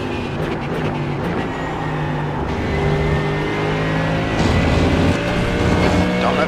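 Simulated V8 race car engine in iRacing, a steady loud drone with sustained harmonic tones throughout, swelling slightly louder toward the end as revs rise, no voices.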